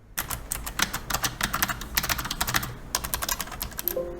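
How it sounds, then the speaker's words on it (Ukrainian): Rapid typing on a Razer Ornata V3 clicky membrane keyboard, with bursts of crisp, close clicks in an uneven rhythm, a brief pause near the three-second mark, then another flurry. No voices. "А тут вона мембрана, але клацає так, наче механіка."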